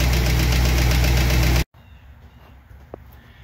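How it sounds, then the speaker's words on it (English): Warm Studebaker Avanti engine at idle with valve tick, a loud steady mechanical clatter with a rapid rhythm that cuts off abruptly after about a second and a half, leaving faint room noise. "Hear that? Just that loud tick, tick, tick."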